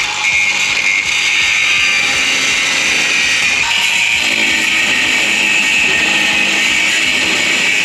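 A power drill whirs loudly and continuously while working on a Corvette drift car build, a harsh high-pitched mechanical whine that runs without pause from start to finish.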